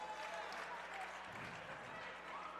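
A girls basketball crowd at a Hamilton Southeastern versus Carroll regional game cheers and claps in a steady wash of noise, heard from a distance and fairly faint.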